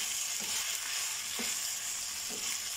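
Macaroni tossed with soy sauce and chicken powder sizzles in a hot pan, a dense steady hiss with a few soft thumps of mixing.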